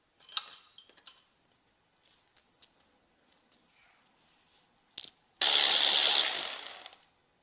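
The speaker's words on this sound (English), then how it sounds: "This upper guide has to be unbolted from the other side to remove the chain." Ratchet clicking in short bursts while unbolting the upper timing chain guide on a Mercedes-Benz W140 S600 6.0 V12 engine during teardown, followed by a sudden loud hissing rush that fades out.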